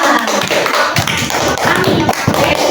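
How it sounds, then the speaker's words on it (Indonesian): A classroom of students claps for a group after its presentation, loud and close, with rapid overlapping hand claps and a few sharper thuds, steady throughout. "Tepuk tangan untuk kelompok 4."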